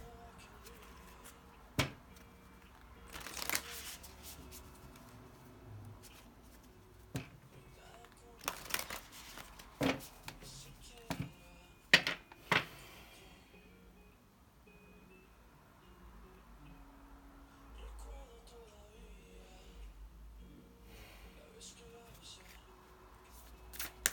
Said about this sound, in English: So I'm going to be quiet for a second so I can shuffle.